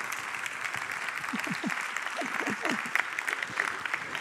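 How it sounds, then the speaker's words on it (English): Applause from a keynote audience at a leadership talk, a steady dense patter of clapping lasting the whole stretch, with a voice speaking over it near the end. "No one ever claps, and I always make them clap"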